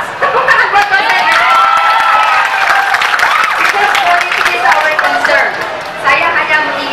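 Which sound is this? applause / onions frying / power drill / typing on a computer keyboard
applause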